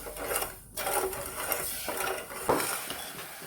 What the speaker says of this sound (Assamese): চেনিটো গলালৈকে মই লাৰি থাকিম এনেধৰণে